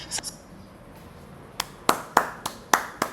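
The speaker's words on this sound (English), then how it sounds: "I knew we was gonna get some applause in here today." A few sharp, separate hand claps ring out near by, sparse and uneven rather than a full round of applause.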